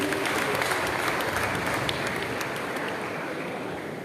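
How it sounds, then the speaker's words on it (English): Audience at a school quiz programme gives a steady, even round of applause for a student, dense clapping that fills the room and fades slightly at the end. "Can we give a round of applause for Rajendra, please?"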